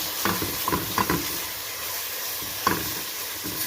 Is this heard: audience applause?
no